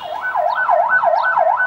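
An ambulance siren wails loud and close, rising and falling in a steady repeating cycle with no voices over it.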